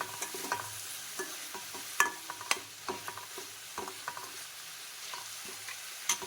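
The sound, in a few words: vegetables sautéing in a pan for noodles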